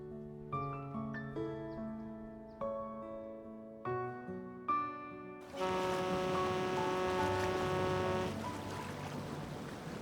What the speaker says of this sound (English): Let's wait for the rain to stop.